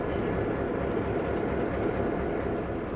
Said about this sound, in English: Old heritage train